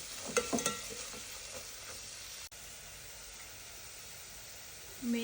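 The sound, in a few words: stirring salt and curry leaves in a pan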